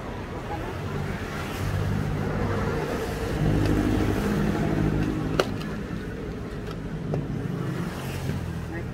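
A vehicle passes along a road beside a parked truck, its broad engine rumble swelling through the middle and easing off, with a few faint clicks and background noise.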